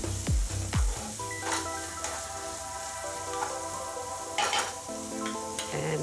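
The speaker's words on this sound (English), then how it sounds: "I'm going to add 1 onion sliced lengthwise, and we can saute this for a couple of minutes" Sliced onion sizzles and crackles steadily as it sautés in a hot pan, with a few louder clinks of a utensil stirring early on and a faint tonal hum running underneath.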